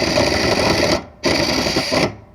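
During a fuel pump replacement, an impact gun tightens the bolt on a fuel pump strap. It fires in three close, loud rattling bursts with short gaps between them.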